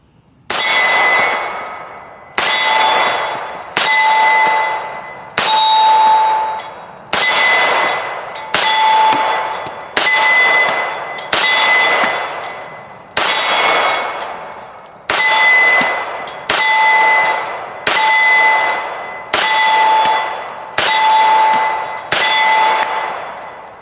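An FN FNX-45 pistol fires round after round into steel gongs. About a dozen sharp, loud shot-and-clang hits come in a steady cadence, each leaving a bright metallic ring that decays before the next.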